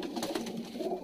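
Jhamra pigeons cooing softly in a short, faint burst of low, rolling coos, close by with no talk.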